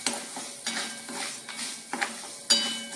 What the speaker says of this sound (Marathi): आणि ही मिरी, ही आता भाजून घ्यायची